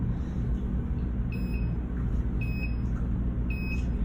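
An escape room countdown timer beeps in three short, evenly spaced pairs of high tones, faint and close, over a steady low room hum.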